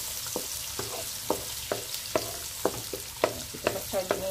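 Mee goreng noodles stir-fried in a pan, with repeated sharp scraping strokes of the utensil about every half second over a steady low sizzle, close and moderately loud, with no talking.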